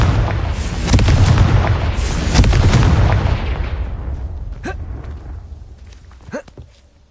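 Repeated blasting-spell explosions in a Harry Potter video game: heavy booming bursts that roll on for several seconds and fade, followed by a few sharp crackling pops and a later smaller bang.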